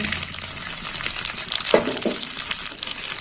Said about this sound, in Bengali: আর এখানে নিয়েছি লঙ্কার গুঁড়ো, হলুদ গুঁড়ো। এবার একটু জল দিয়ে গুলে নেব।